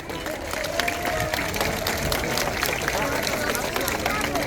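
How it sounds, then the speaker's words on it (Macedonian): A crowd at an outdoor end-of-school-year celebration in Prilep claps steadily, the applause mixed with babbling voices and general hubbub throughout. "Ве замолувам со еден голем аплауз да ги поздравиме"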